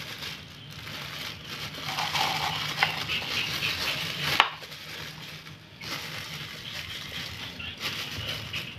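Continuous crinkling and rustling of plastic bags being filled with fishing bait, with soft crunching handling noises and a brief sharp tap midway, close up with no talking.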